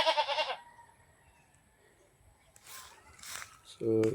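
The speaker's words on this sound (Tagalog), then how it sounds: "Napakaingay yung kambing." A goat bleats loudly at the start, then rustling and faint movement noises, and another nasal bleat closes out the stretch.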